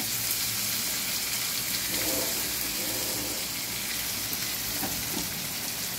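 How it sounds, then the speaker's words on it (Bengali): Potatoes frying with soya chaap in a pan, a steady, dense sizzle of hot oil throughout, close and continuous with no talk. "আলুগুলো এর সাথে একটু ভেজে নেব"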